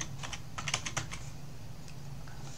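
A short burst of typing on a computer keyboard with crisp, close key clicks clustered in the first second, then a couple of isolated taps over a low steady hum.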